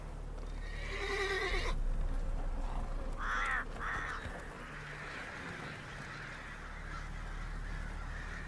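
Roach, the horse in The Witcher 3, gives a loud whinny early on, followed by shorter snorting neighs and a few hoof clops over steady low ambient rumble, with no talking.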